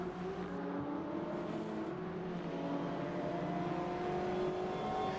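The URD Bayro EGT, a GTE race car, runs in the Assetto Corsa racing game with a steady droning engine note that rises gently under load, continuous and fairly distant throughout.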